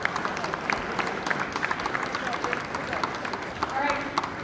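Steady applause from an audience, many hands clapping at an even, moderate level throughout with a faint murmur of voices underneath.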